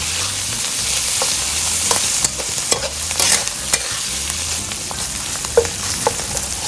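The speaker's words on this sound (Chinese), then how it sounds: "炒出那个红油出来。" Doubanjiang, chopped Yongchuan fermented black beans and aromatics stir-fried in oil for Sichuan mapo tofu, a loud, close, steady sizzle broken by repeated scraping and clacking strokes of the spatula against the wok.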